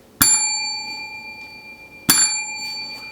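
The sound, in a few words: bell ding sound effect for subscribe notification button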